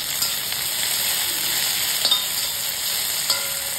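Onions frying in a pan until brown give a steady, close sizzle that runs without a break, with a couple of brief clinks from stirring.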